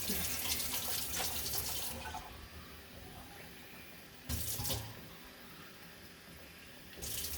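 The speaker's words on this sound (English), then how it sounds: "I fill up each can with water" Tap water gushes into tomato paste cans, a steady running flow that cuts off, followed by short bursts of filling and quiet pauses between them.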